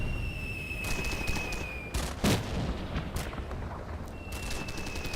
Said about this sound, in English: So just those harassing mortar fire is really holding my guys back.